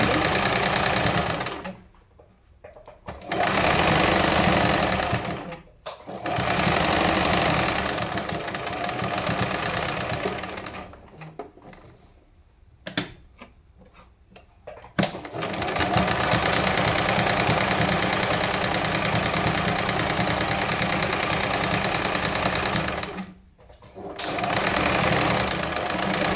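An electric sewing machine stitching along a wide lace edge on a child's lehenga choli, running in long steady bursts with short pauses between them, loud and close.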